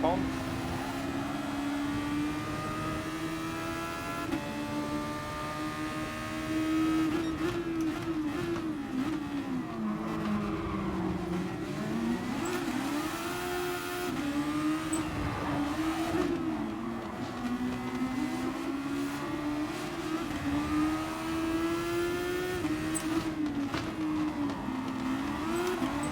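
Race car engines in the GT Sport racing game, a continuous high droning whine that rises and falls with gear changes and revs throughout, with a player's voice talking over it.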